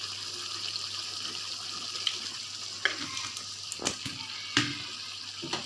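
Jengkol and anchovy sambal hisses steadily in a frying pan while being stirred, with a few soft clicks and scrapes from the spoon breaking through the continuous sizzle.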